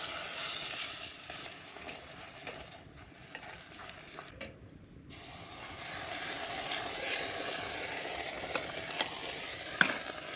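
Water hissing and sizzling steadily in a very hot pan over a campfire, a faint continuous fry with a few soft clicks, no talking.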